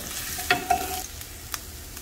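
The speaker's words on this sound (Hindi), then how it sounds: "इसमें ऐड करूंगी थोड़ा सा जीरा अदरक थोड़ा सा बस इसको हम लोग मतलब रोस्ट कर लेंगे" Cumin seeds and ginger dry-roasting in a pan: a steady sizzle with a few sharp stirring clinks near the start and one more later, close and fairly quiet, with no talking.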